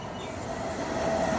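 The Kamrup Express (15960, Dibrugarh–Howrah) moves through Bijni railway station with a steady, close rumble of rail cars and a thin, sustained metallic wheel squeal. The sound is loud and continuous and carries no talk.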